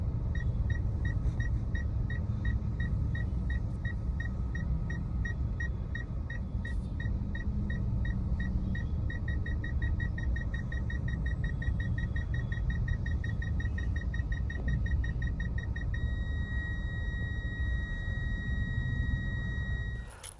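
A Kia Sonet G1.0T-GDi's parking sensor beeps in a fast, regular train of short tones that speeds into a near-continuous tone, heard from inside the car over a low road rumble.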